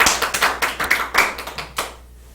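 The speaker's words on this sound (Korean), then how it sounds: "박수." A small audience at a spiritual healing ministry talk gives brief applause, about a dozen distinct close hand claps in quick succession that stop after two seconds.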